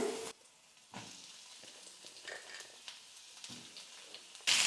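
Onions sauté with dried red chillies in a pan for chutney, giving a soft, steady sizzle with a few faint stirring scrapes and taps.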